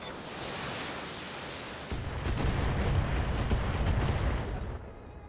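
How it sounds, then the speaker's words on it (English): Heavy mech weapons fire in the BattleTech video game, a dense, booming barrage of blasts that swells after a short lead-in and rumbles on for several seconds before fading, with no talk over it. "Firing on target."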